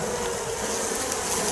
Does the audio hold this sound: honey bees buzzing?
yes